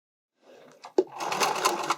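A sewing machine starts up briefly after a soft click, zigzag stitching elastic in a short quick burst close by.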